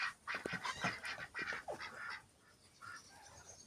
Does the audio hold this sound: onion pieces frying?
no